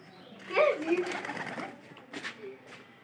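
White pigeons give a few soft, close coos amid light rustling, with a person talking over them.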